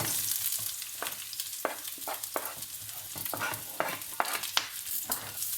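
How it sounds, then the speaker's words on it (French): Onions frying in olive oil in a pan, a soft, even sizzle broken by regular sharp scrapes and taps as they are stirred, close and without talk. "je fais bien revenir les oignons"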